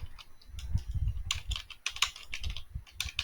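Rapid, close-up keystrokes clatter on a computer keyboard while Python code is typed, an uneven run of clicks with short pauses and no talking.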